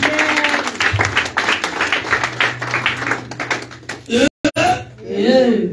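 Congregation applauding at an Easter church service, steady loud clapping mixed with cheering voices, then a pause and a voice speaking.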